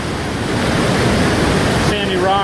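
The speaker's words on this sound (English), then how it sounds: "especially along this rushing water" Steady broadband rush of water flowing past a sandy rock ledge beneath a masonry arch in Minnesota, loud and continuous throughout, with a brief burst of faint talking near the end.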